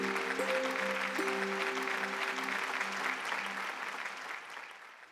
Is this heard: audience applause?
yes